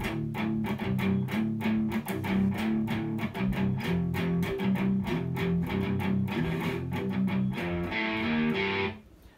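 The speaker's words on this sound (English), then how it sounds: "it's just decreasing the attack of my distortion" Distorted electric guitar plays a rhythmic, chugging riff, with volume-pedal swells softening the note attacks, ending with a brief brighter strum before fading.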